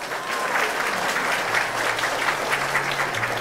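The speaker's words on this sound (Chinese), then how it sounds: "我们再给他们掌声" Steady applause from a seated audience at a government awards ceremony for civil servants, a full, even patter of many hands clapping continuously throughout.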